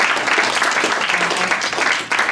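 Applause from a community audience for a panel of volunteer attorneys, a brief burst of steady clapping that stays loud and close before tapering slightly, with no speech.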